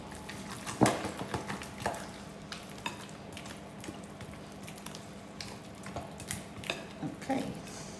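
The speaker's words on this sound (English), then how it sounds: "give this a really good stirring until it all incorporates really well with the yogurt" Spoon stirring mint into a yogurt mixture in a bowl, soft wet scraping and occasional clinks at an irregular pace, close and fairly quiet.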